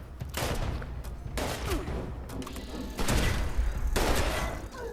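Repeated gunfire bursts in a video game, loud broadband blasts clustered around the start, middle and end of a continuous busy game soundscape.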